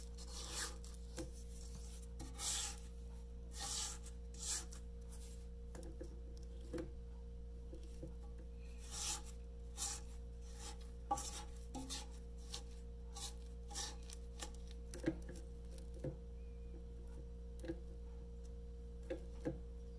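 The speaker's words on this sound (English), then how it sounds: "we just gotta scrape down the sides of the bowl" Soft, repeated rasping scrapes of a spatula against the sides of a bowl of chocolate chip cookie dough, faint and close, with a steady low hum underneath.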